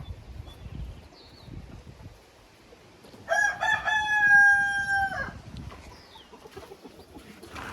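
A rooster in a backyard chicken run gives one clear, loud cock-a-doodle-doo in the middle, with softer clucking and scratching from hens around it.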